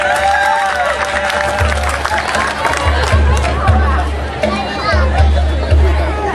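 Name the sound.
audience applause for the children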